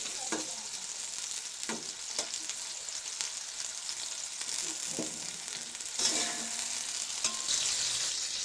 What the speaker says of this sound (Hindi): प्याज को अब हल्का ब्राउन कर लें।